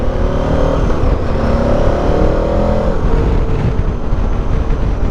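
A loud, close KTM 1390 Adventure R motorcycle engine revs, its pitch climbing and falling as the throttle opens and eases off.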